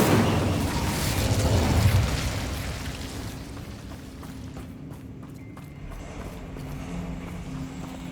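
An Incendio fire spell is cast in Hogwarts Legacy: a loud whooshing burst that swells over the first two seconds, then fades into a lower, steady crackling rumble with scattered faint clicks.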